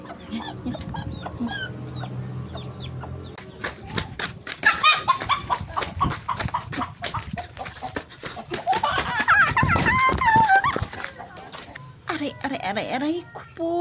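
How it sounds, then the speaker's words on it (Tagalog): Chickens cluck and squawk in a domestic home setting, a lively farmyard-like clatter rising and falling under and between frequent talking voices, including a child's. "Ayan yung manok."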